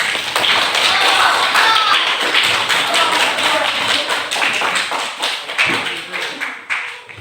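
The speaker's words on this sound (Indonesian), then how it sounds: "beri aplaus dulu untuk temannya" Classroom applause for a classmate, with students clapping in a dense, lively burst that gradually thins into scattered claps toward the end.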